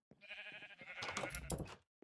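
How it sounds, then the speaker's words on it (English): A Minecraft sheep bleats in a modded survival game, two wavering bleats in quick succession, clear and close and alone, with a faint click at the very end. "Alright, my sheep are trying to get out."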